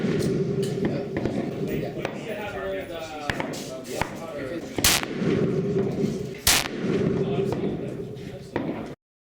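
Remington 700 SPS Tactical rifle firing 168 grain reloads from a bipod and rear buttstock rest, with a few loud, sharp shots spaced seconds apart and a person talking throughout.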